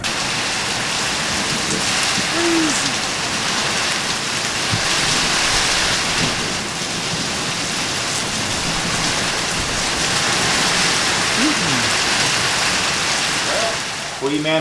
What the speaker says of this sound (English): It was really just a torrential downpour with some wind and lots of lightning.